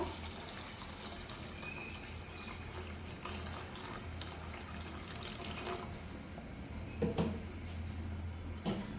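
Water runs steadily from a tap into a cooking pot for palak biryani, a continuous splashing hiss with a couple of soft knocks near the end.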